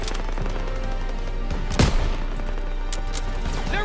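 Gunfire in the Call of Duty WWII video game during a firefight, with dense continuous shooting and distant explosions under loud battle noise, plus one sharp, close blast near the middle.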